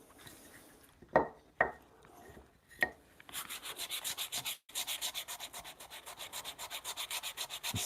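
Wet glue is being sanded off a wooden bunk bed rail. A few sharp knocks come first, then a steady, close run of rhythmic back-and-forth sanding strokes.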